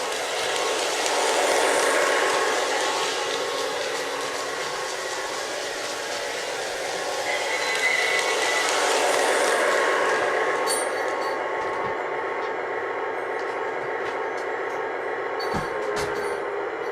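A Lionel Chessie System Alco S4 switcher model train runs laps on a track with a steady, whirring motor and rolling rumble that fades and swells, followed by clicks and clatter near the end.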